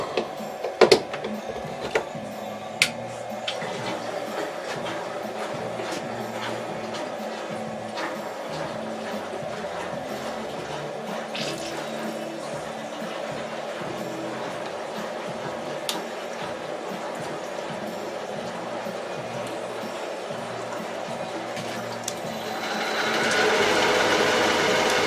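A Colchester Bantam lathe set up for dividing cuts a 57-tooth 16DP change gear with water on the cutter, giving a continuous machining whir with a few sharp clicks early on and a rising hiss near the end.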